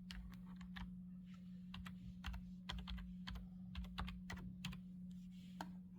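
Steady typing on a computer keyboard while entering a comment, quick close clicks in irregular bursts over a constant low electrical hum, quiet overall and with no voices.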